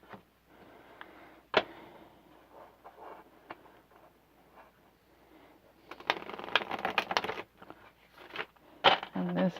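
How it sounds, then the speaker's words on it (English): Tarot cards from a curved Giants Tarot deck are shuffled in bursts of crisp riffling and flicking, with quiet handling in between and a louder stretch of shuffling toward the end. "do a lot of shuffling backwards because it likes to be so curved."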